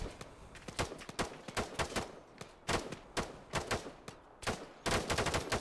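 Rapid bursts of automatic gunfire crackle in the Arma 3 video game, sharp repeated shots in quick clusters with brief gaps, fairly close and prominent with no talking.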